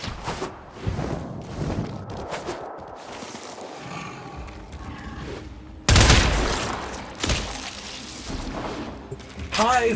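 Rapid bursts of weapon fire in the video game Warframe, aimed at an infestation hive, crackling and thumping amid dense game effects and music, with a voice speaking over the action.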